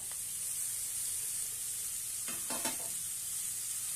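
Chopped fenugreek leaves sizzle and hiss steadily in a hot pan for a dal, with a few brief scraping stirs near the end, fairly quiet and with no talk.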